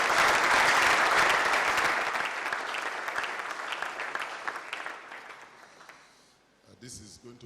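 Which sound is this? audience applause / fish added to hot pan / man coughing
audience applause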